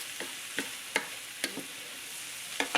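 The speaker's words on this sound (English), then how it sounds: "you want to let it cook until you see the onions starting to soften" Onions cooking with kosher salt in a pan give a soft, steady sizzle, broken by a few sharp scrapes and clicks of stirring spaced about half a second apart, fairly quiet and close, with no voices.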